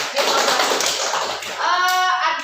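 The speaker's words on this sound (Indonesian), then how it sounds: "tepuk 2, tepuk 1, tepuk 3, tepuk 4, tepuk 5. Oke, sip. Tepuk tangan." A classroom of children clapping hands together in a patterned sequence, loud close claps in short bursts with a brief pause between phrases.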